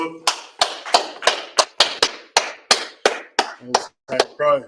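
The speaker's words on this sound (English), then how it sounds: "Clap it up." A small group at a Chicago gathering claps in unison with about a dozen sharp, evenly spaced claps, and voices come in near the end.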